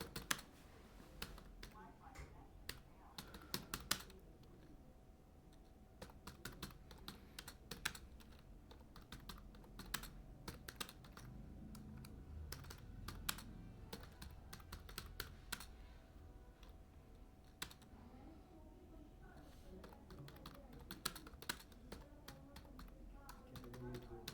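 Steady close-up typing on a computer keyboard while someone writes code, with quick irregular key clicks throughout and a voice speaking faintly at times.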